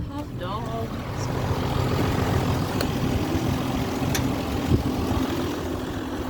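A farm tractor's engine runs steadily from inside the cab, a low continuous rumble with a hum under it, while someone talks over the engine noise.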